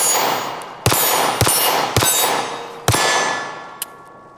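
A pistol fires its remaining rounds, four sharp, loud reports spaced about half a second to a second apart, each ringing with a metallic clang that decays before the next, then a small click.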